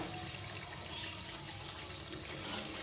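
Water boiled with besan belay poured into a simmering gravy (salan), giving a steady, continuous liquid splashing and trickling that stays even throughout, with no talking.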